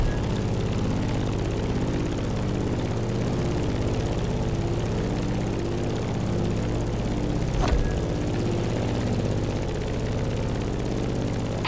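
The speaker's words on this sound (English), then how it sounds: "In the cockpit of a stunning Grumman F-8F Bearcat" Grumman F8F Bearcat propeller fighter in The Crew Motorsport, a steady, loud piston-engine drone holding evenly throughout with a brief swell near the end, no voices.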